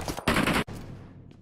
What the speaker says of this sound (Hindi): ये खड़े होकर तुम्हारे मुंह पे गोलियां मार रहा है।